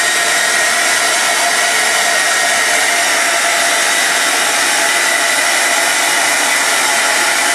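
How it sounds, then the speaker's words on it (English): A hair dryer blows steadily at close range on a Suzuki GSXR motorcycle seat cover, a loud continuous whoosh with no pauses or changes throughout. "What I'm going to do now is use the hairdryer."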